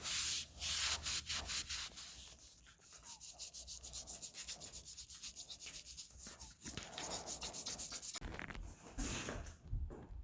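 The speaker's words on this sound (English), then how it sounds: "Now we're gonna clean the roof channels before we do any work." Scrubbing and rubbing along the dirty roof channels of a 30-year-old car body, a steady run of close, rhythmic scraping strokes with no talking.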